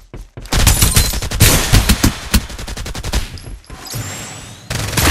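Sustained automatic gunfire from the video game Farlight 84, loud and close, with dense rapid bursts that briefly pause near the end before firing resumes.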